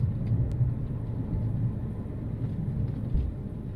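Diesel engine of a Citroën C6 running steadily while driving, a gruff, bus-like low rumble heard from inside the cabin, continuous and even, with no talking.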